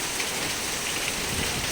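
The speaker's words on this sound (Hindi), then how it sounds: "जम्मू में ज़ोरदार बारिश हो रही है" Heavy rain with wind pours down in Jammu in the early morning, a dense, steady hiss of drops on surfaces with no voices.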